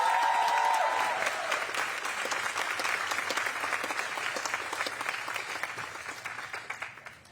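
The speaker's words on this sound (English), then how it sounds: "So please give a warm round of applause" Warm, sustained applause from an audience at a university multicultural center groundbreaking ceremony, dense steady clapping that slowly thins and fades toward the end.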